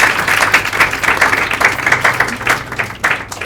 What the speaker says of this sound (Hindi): एक बार अपने लिए जोरदार तालियां बजाओ।